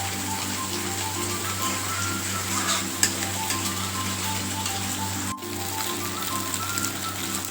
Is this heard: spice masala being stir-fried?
yes